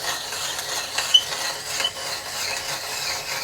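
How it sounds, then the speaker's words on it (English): Steel threading tool cutting threads into a simple screw vise rod, a soft continuous grinding scrape with faint clicking ratchet-like ticks, steady and close throughout. "as it begins to thread itself, it's cutting shavings that are coming out of here"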